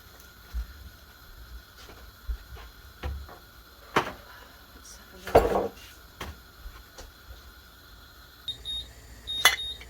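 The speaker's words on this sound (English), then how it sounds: "the alarm has gone off for 15 minutes" A short electronic kitchen timer alarm beeps near the end, high and sharp, over faint kitchen clatter of dishes and utensils in a quiet room.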